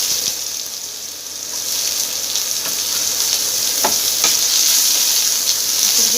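Onions and tempering spices fry in hot oil for an Odia chatu besara, a loud, dense hiss that swells slightly, with a couple of brief stirring scrapes.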